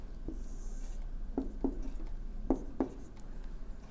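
A pen sketching a quadratic graph on paper, a few short soft scratchy strokes with gaps between them, close and quiet over a faint background hum.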